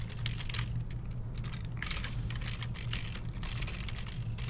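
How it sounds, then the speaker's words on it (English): Fingers type on a computer keyboard in quick, uneven bursts of close clicks, with a steady low electrical hum beneath and no talking. "having trouble typing here"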